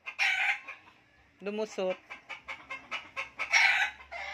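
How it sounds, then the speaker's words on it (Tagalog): Two chickens cluck in a yard, with a few sharp squawking calls and short rapid clucks close by, and a voice speaks briefly among them. "May nakapasok kasi dito dalawang manok binugaw ko."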